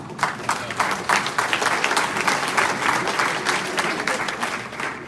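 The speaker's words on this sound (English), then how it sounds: "thank you, audience, for being so exuberant with your applause" An audience at a political candidate forum in Olathe, Kansas applauds, with many hands clapping in a dense, steady wave that holds loud throughout, then begins to taper at the end.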